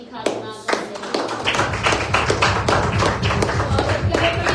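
A worship congregation at a Sunday service claps in a steady rhythm, sharp regular hand strikes building after a sparse start, with voices mixed in beneath the beat.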